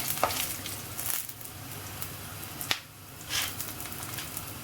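Ingredients for arachuvitta rasam frying in a pan, a continuous close sizzle broken by a few sharp spatula scrapes and taps, with no voices.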